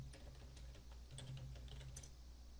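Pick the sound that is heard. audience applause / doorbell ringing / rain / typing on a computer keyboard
typing on a computer keyboard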